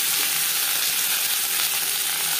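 Cauliflower stems frying in oil with dried chilli, bay leaf and panch phoron give off a loud, steady, close-up hiss of sizzling that runs unbroken throughout, with no voices.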